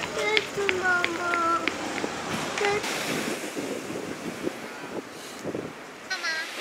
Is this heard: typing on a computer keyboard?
no